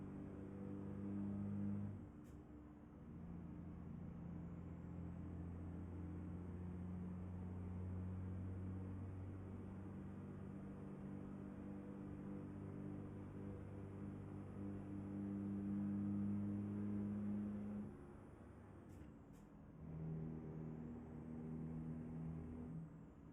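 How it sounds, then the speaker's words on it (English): A Peterbilt 389 truck with a 6NZ engine mod in a driving game gives a steady low diesel drone with strong harmonic hum, holding for long stretches, dipping briefly a few times as gears shift, with faint high whine above and no talk. "The engine sounds kept me company."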